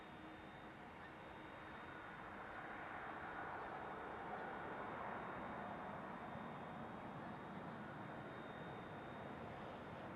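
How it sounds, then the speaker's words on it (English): An Airbus A330 spools up its jet engines at Amsterdam Schiphol Airport, a faint, distant, steady roar that slowly swells across the whole stretch. "Meanwhile, behind me I can hear the A330."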